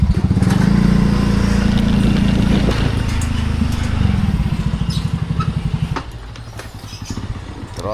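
A motorcycle engine runs close by, idling with a rough, pulsing rumble that shifts and drops in level partway through, while a person talks nearby.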